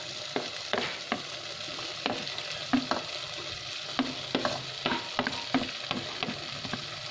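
Tomatoes hitting a pan of cooked potatoes set off a steady frying sizzle, broken by repeated scraping and tapping from a spoon stirring, close and moderately quiet with no talking.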